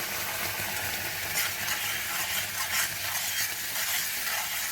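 Leaves fry in hot oil in an iron kadai and are stirred, giving a continuous, close sizzling hiss with scraping stir strokes and no talking.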